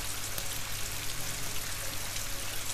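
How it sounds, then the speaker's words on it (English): Steady, dense rainfall in the Rise of the Tomb Raider video game, set in London, England, with a constant close hiss of drops hitting surfaces and no talking over it. "Damn, it's raining now."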